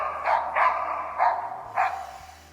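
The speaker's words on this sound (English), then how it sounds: "standing at its base, barks loudly and rhythmically, signaling to the hunter that it has cornered something here" A Laika hunting dog barks loudly at game it has treed, four strong barks coming in a steady rhythm at close range, with no other sound competing.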